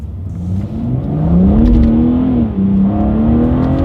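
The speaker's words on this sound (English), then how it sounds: "let's do a quick little paddle shifter test here to start" BMW M3 engine revving hard in sport mode as the paddle shifters are tested, a loud close rising drone that climbs through gears with brief dips at each shift, with no talking.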